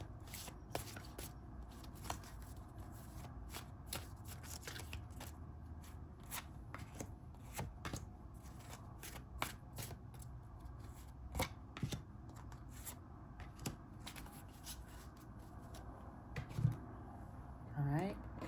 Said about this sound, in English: let's draw the tarot cards